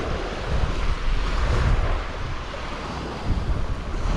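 Steady, blustery wind roars across an open winter shoreline at Puerto Pollensa, Mallorca, with a broad rushing noise and low gusty rumble throughout; surf may mix in beneath.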